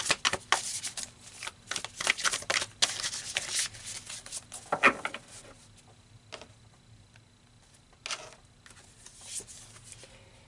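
Tarot cards being shuffled by hand, a steady close riffle and rustle of card stock that fades and returns in short bursts, with no talking.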